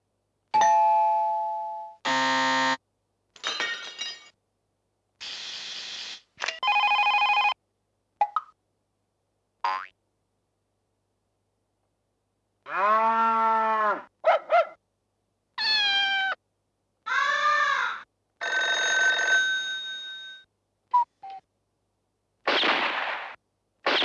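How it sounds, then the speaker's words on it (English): An early 1990s video and sound effect processor plays a run of short synthetic effects one after another, including a doorbell chime, cat-like meows, gunshot-like bangs and warbling tones, each separated by silence, loud and close. "early 1990s video and sound effect processing. Terrific. And it still works. Listen to this."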